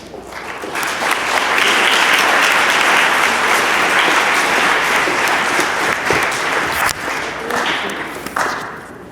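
Sustained audience applause fills an in-person 8th grade promotion ceremony at Cholla Middle School: dense, loud clapping from a crowd that holds steady for about nine seconds, with a few sharper claps standing out near the end.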